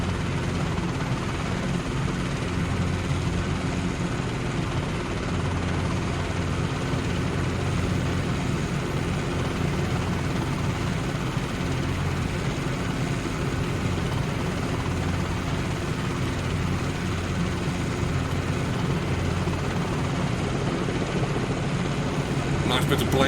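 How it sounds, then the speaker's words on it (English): An R22 helicopter in the CowanSim flight simulator game flies with a continuous rotor drone and rhythmic blade slap, loud and steady throughout. "Nice bit of blade slap."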